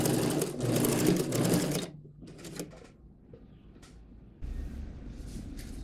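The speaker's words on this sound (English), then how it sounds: "Sew the sleeve in. Reverse your stitches." A sewing machine stitches a sleeve into a peasant blouse, running in close loud bursts with a short reverse stitch, brief pauses between runs and a faint handling clatter.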